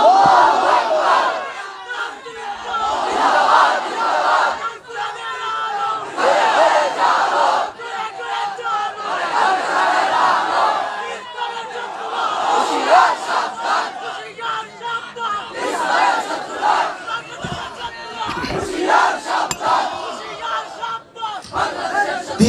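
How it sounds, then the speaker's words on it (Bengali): A crowd at an outdoor rally answers a caller with loud, ragged Takbir chants, many voices rising together in repeated surges over steady murmuring chatter. "আপনাদের মধ্য থেকে একজন যুবক দাঁড়িয়ে স্লোগান দেন নারে তাকবীর"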